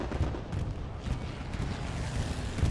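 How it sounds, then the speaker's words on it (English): Dense rumbling explosions from a bombing and strafing run in the Hell Let Loose video game, a continuous barrage of distant booms and thuds without pause, moderately faint. "A crossover bombing run / strafing run."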